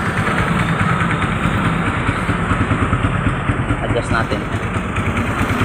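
A Suzuki Rider 150 FI motorcycle engine idles at low RPM, a loud, close, steady throbbing rumble with a fast even pulse, while someone talks over it.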